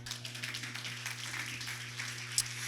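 A church congregation claps steadily for the Lord during a Spanish-language sermon, the many hands blending into a continuous brisk patter over a low electrical hum.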